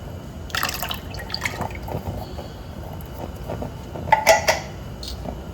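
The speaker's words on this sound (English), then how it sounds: "2 13-ounce cans of coconut milk." Thick coconut milk from two 13-ounce cans glugging and splashing into a pot of rice in uneven bursts, with a louder pour and clink of a can near the end.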